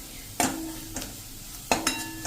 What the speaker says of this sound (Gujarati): અને સ્લો ફ્લેમ ઉપર આપણે આને સરસ મિક્સ કરી દેશું.